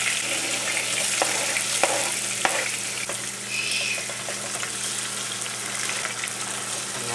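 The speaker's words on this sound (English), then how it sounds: "going to add in the garlic and just basically everything all at once" Garlic and other ingredients for a Ghanaian corned beef stew fry in a pan, with a loud, constant hiss and a few light clinks from utensils, close up and with no one talking.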